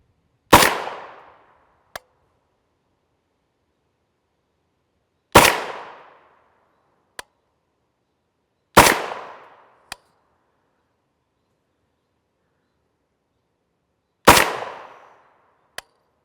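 Four loud, sharp rifle shots spaced several seconds apart from an 8.6 BLK rifle with a 16-inch Faxon barrel and no adjustable gas block, firing 285-grain solid copper rounds, each followed by a brief decay and a faint metallic click.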